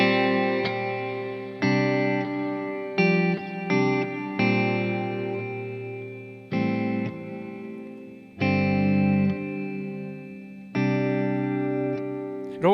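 An electric guitar played through a Strymon Cloudburst ambient reverb pedal with the mod control off rings out in a series of strummed chords, each sustaining and decaying into a smooth reverb tail before the next.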